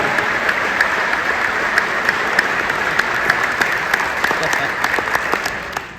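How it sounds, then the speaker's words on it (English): Audience applause for an honoree at a school district athletics Wall of Fame ceremony, continuous steady clapping from a room of people with sharper individual claps standing out near the front. "Let's have a big round of applause for Lori Scally"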